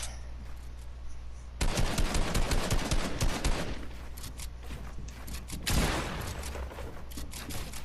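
Rapid bursts of gunfire crackle in a 1v1 video game tournament match, dense volleys of shots starting abruptly, easing off, then a fresh loud burst before fading into scattered fire.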